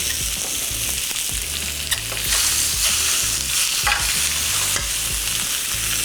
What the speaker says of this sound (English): My pork shanks are seared up nicely.